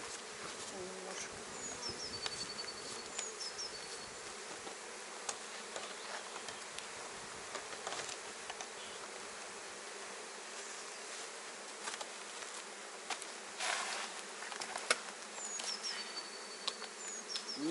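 Dense, steady buzzing of many bees fills the air up close, with occasional louder passes and faint clicks and rustles.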